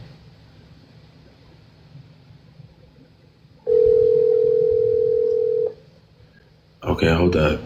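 A phone call rings out through the earpiece: one steady ringback tone holds for about two seconds against quiet background, then a voice starts talking.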